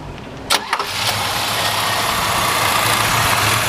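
A 1964 Chevrolet Malibu SS coupe with a 327 V8 cranks briefly in a few quick bursts, catches, and settles into a loud, steady, rumbling idle up close.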